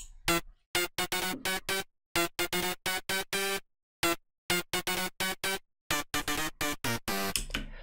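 Layered EDM synth leads with pitch-bend automation, future bounce style, built in FL Studio: loud, tightly gated stabs in a choppy repeating rhythm, broken by short pauses, with a noise swell at the end.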